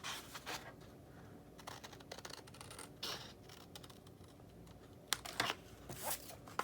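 Paper K-Cup favor template being cut off a sheet, heard as scattered close scratchy snips and tearing rustles with irregular bursts and quiet gaps, no voices.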